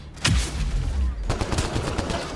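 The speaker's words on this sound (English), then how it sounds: "I hate this assault rifle so much. It has like so much recoil." Rapid bursts of assault rifle fire in the video game Mass Effect Andromeda, loud and close, with a sharp shot near the start and a dense run of repeated shots through the second half.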